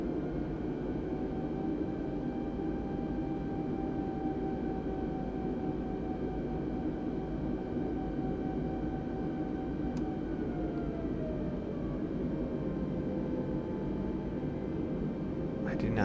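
An Airbus A320 airliner taxiing in after landing, heard from inside as a steady, even engine drone and broadband cabin hum that holds constant throughout, with a faint whine shifting partway.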